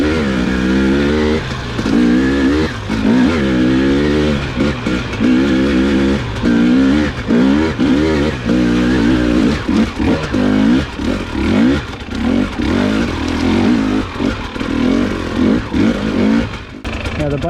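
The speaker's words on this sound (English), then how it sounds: "the bike will lug up those hills really easy, gear high" A 2021 Husqvarna TX300i dirt bike engine lugs up hills in a high gear, loud and close, its labored drone rising and falling continuously with throttle changes and no break.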